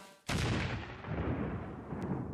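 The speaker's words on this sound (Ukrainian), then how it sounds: "Вибухівка буквально заїжджає на ворожу позицію" A kamikaze ground drone's explosive charge detonating on an enemy position in the war in Ukraine: a sudden loud blast followed by a long rumbling roar of debris and noise, with no voices.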